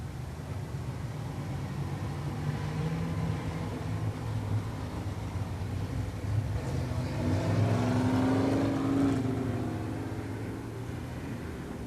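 Race cars lapping at Hudson Speedway during weekly racing in 1989, their engines a steady, continuous drone that rises and swells as the pack passes, then eases off, with no voices over it.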